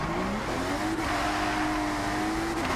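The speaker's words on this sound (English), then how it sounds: "So it's either the B58 or the E46 inline 6 engine." An inline-six car engine, either a B58 or an E46, revs steadily and loudly up the rev range with a rising tone, close and continuous from start to finish.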